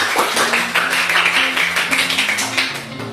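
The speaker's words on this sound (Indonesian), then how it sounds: "Bagus sekali, beri tepuk tangan buat kita semua." A primary school class claps together in the classroom, a loud, dense patter of many small hands, with children's voices faintly mixed in.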